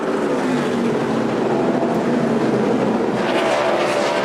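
NASCAR stock cars roar through the final half lap of a 400-lap race at New Hampshire, a dense, steady engine drone with no pauses and no talk.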